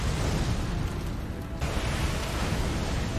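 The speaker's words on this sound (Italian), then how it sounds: "Esplosione." An explosion in the video game Elden Ring, a broad roaring blast of dense rumbling noise that swells, dips briefly, then continues loud and heavy for several seconds.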